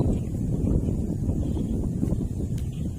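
Wind blowing steadily across an outdoor fishing spot, a continuous low rumbling buffet on the microphone with no breaks, loud and close.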